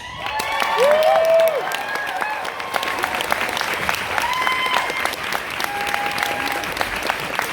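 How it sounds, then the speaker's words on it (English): Sustained applause from a crowd at a cosplay grand prix award, a dense steady wash of many hands clapping near and loud, with brief cheers and a voice over the top early on. "You gotta keep clapping, guys."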